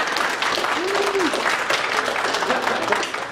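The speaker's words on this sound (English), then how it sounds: "give this guy a hand clap" A church congregation gives a round of hand clapping, a dense steady burst of applause with a brief voice cutting through near the start.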